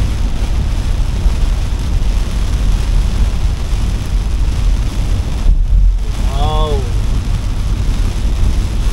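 Heavy rain pounds a car driving near a flooded Skyway exit, a loud, constant roar of water and road noise close around the cabin, broken only by a brief exclamation from a person inside.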